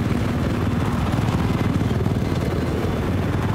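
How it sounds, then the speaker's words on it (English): An enemy Little Bird helicopter in Battlefield 4 on Dragon Valley drones steadily close by, its rotor chop and engine roar constant, with faint gunfire mixed into the din. "Chopper, enemy chopper!"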